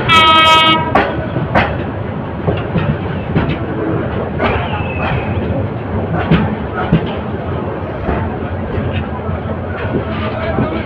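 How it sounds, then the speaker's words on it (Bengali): The Chottola Express (Dhaka to Chittagong) curves out of Kamalapur railway station, with passengers riding on the roof. A horn sounds at the start, then steady rolling rumble and rhythmic wheel clacks follow, with track repair work under way nearby. "ট্রেনটি বাক নিয়ে কমলাপুর রেল স্টেশন থেকে বেরিয়ে যাচ্ছে।"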